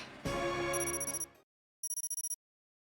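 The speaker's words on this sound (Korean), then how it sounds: "클로이, 잠시 전화 좀 받겠다." Telephone ringing in the video game Nikke: a bright electronic ring with a rapid trill, then silence, then a second burst of quick pulsed rings, clear and alone.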